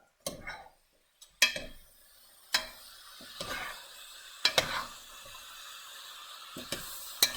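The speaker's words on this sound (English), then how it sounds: "Mix them up." Browned venison and pork cuts being stirred together in a pan for a five-spice stew, with a faint sizzle under a series of sharp scrapes and clinks of the utensil spaced through the stretch, no talk.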